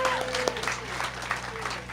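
Crowd applause at a KaBOOM! playground build day in Rocky Mount, steady clapping filling two seconds with a faint tonal line underneath, moderately loud and continuous.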